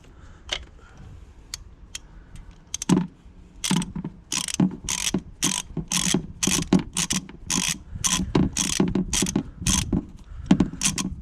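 Ratchet turning a 5/8 spark plug socket to remove a plug from a Kia Cerato GT engine, giving a loud series of rapid clicking bursts, irregular at first and then a steady run of quick strokes, close up and without talk.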